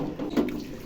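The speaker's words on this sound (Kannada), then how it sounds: "ಇವಾಗ ನೀರು ಆ್ಯಡ್ ಮಾಡ್ತಾಯಿದ್ದೀವಿ." Water is poured into a pot of chicken biryani with rice, a short gentle splash and gurgle heard alone at close range.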